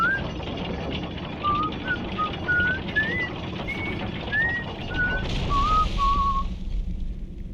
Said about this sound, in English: Not many people can say they've been whistle serenaded by the Inquisitor.